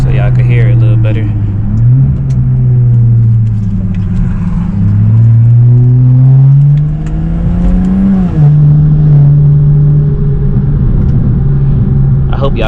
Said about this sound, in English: I hope y'all can hear that spool,